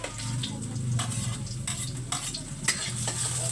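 Food being sautéed in a pan, with a steady sizzle and scraping stir strokes running close and loud throughout, no voices.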